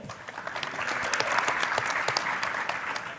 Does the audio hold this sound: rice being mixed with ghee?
no